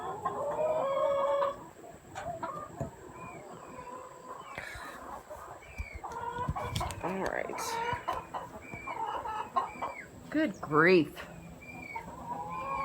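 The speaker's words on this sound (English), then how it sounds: "Dang chickens." Chickens clucking and a rooster crowing nearby, the birds chattering on and off while a person speaks briefly.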